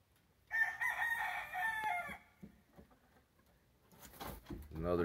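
A Blueface Hatch gamefowl rooster, a free-range bird, crows once loudly and nearby in a long drawn-out call. Short clucks follow, then a second bird's voice and a brief spoken remark near the end.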